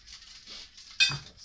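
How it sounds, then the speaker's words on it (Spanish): A knife pushes a cooked chicken breast across a plate, soft scraping followed by one sharp metallic clink against the dish, close and quiet. "Y vamos a empujar así con el cuchillo."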